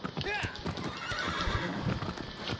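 Video game horse, a short whinny followed by quick clip-clopping hooves in gameplay audio, with someone talking loudly over it.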